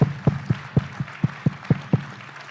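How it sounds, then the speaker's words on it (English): Evenly spaced, crisp claps repeat about nine times in a steady rhythm, loud and close, sounding like one or a few people applauding the speakers at an event. "If we can give them a round of applause."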